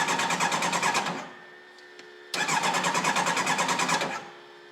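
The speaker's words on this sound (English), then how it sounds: "So we got contact, and we should be able to start, although it's been sitting here for a while," A 1989 race car fitted with a motorbike engine being started after sitting idle: two stretches of fast, rhythmic cranking, loud and near, separated by a short quiet gap.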